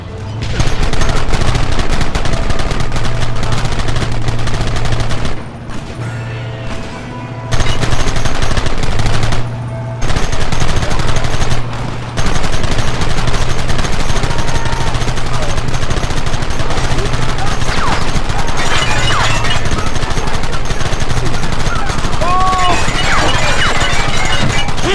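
Sustained, loud automatic gunfire and rapid shots from the Red Dead Redemption video game roar almost without pause, with a few short gaps and shouting voices mixed in.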